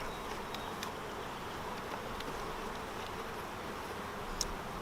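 Soft, steady hum of many honeybees buzzing at an open hive during supering, a continuous drone with occasional faint clicks and taps of frames.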